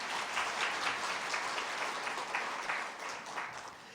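An audience at a Korean church service claps to welcome guests, a steady, fairly quiet round of applause that stays even and fades slightly near the end.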